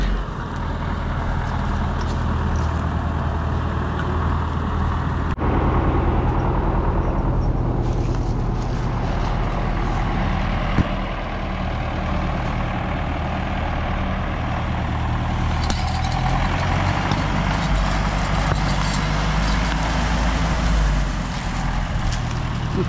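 A YuMZ 8240 tractor engine runs steady and heavy while uprooting old apple trees in an orchard, a deep loud drone throughout with brief shifts in load and a few knocks.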